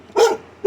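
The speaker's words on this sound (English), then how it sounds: "He likes to bark, but stop." A dog barking indoors at home, two loud, close single barks separated by a short pause, with no talk over them.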